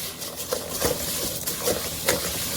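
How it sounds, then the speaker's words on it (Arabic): Vermicelli frying in a pan with oil for Egyptian rice with vermicelli, a soft steady sizzle broken by several scraping stirs of a utensil against the pan, close and fairly quiet. "بقى نحمر شعريه"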